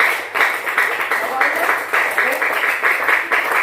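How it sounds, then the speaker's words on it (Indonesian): A classroom claps for group A, a fairly loud, close burst of hands clapping in uneven pulses, with the students' clapping swelling and dipping in rough rhythm across a few seconds. "Beri tepuk tangan untuk kelompok A."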